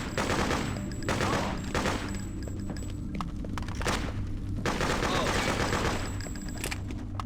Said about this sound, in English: I like the bullets that fly out when you shoot your gun.